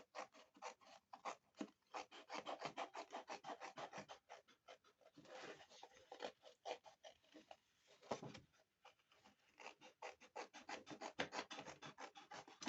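Small scissors cut a shape out of paper for a scrapbook album close by, a quiet run of rapid, rhythmic snips and rustles with a few short pauses.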